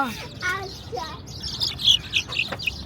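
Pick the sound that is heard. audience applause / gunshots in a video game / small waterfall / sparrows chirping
sparrows chirping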